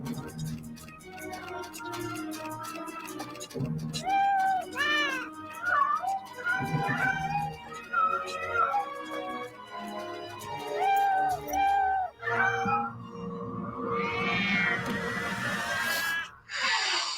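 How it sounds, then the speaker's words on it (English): Several cats meow while eating, with repeated overlapping meows, some drawn out and wavering, loud and close, and a strained, rising wail near the end. "While they're eating, you can hear a sound of the cats"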